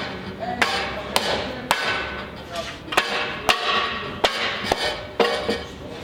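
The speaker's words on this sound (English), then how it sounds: "repeat the tapping procedure on the band clamps" A hammer taps on metal band clamps in a series of about ten sharp, ringing strikes at a fairly even pace, loud and close, with a metallic clink on each hit.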